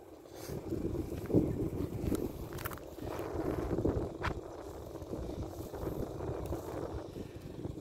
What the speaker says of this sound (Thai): มื้อนี้แดดบ่ค่อยแห้งนะพี่น้องลมดีดีนะครับ